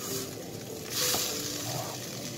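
A spoon stirs tomato paste into a sizzling seafood and tuna sauce for spaghetti in a pan, with soft frying crackle and a brief louder scrape of mixing.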